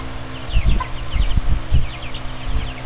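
Cornish White Rock meat chickens clucking and peeping nearby, a loud flurry of short overlapping calls from several birds.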